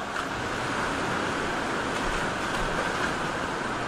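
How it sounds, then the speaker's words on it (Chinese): A large waterfall inside a cave roars as a loud, dense, continuous rush of water with no breaks or voices. "这里好大的一个瀑布"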